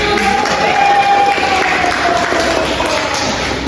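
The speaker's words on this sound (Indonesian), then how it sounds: "Oke, tepuk tangan" A small group of students claps after a sociodrama role-play in a group counseling session, a steady, fairly loud patter of hands continuing throughout with faint room murmur beneath.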